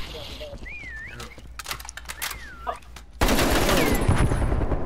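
Gunfire in Call of Duty: Black Ops Cold War, a sustained loud burst of automatic fire that starts abruptly partway through, after quieter game sounds with a voice speaking over them.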